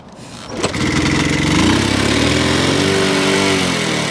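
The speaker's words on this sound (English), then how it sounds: "That was about 32 attempts at kick-starting it" A Honda Cub C90 motorcycle kicked over, catching after a brief thump and settling into a loud, close, steady small-engine idle.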